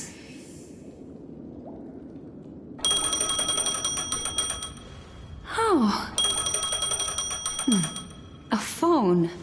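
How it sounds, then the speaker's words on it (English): Bell-like electronic ringing from a phone, starting abruptly and repeating in bursts with descending chirping tones, over a background hum; a short exclamation is heard. "A phone."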